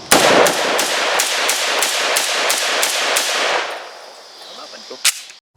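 A Beretta BM59 rifle fires a rapid string of about ten sharp, loud shots in even rhythm outdoors on a range, then the echoes fade and one last metallic clack follows.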